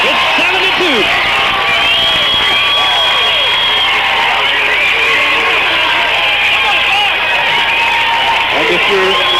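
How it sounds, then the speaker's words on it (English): A crowd at a high school baseball game keeps up a steady, loud roar of cheering and shouting, while a commentator talks over it. "you can probably hear the crowd"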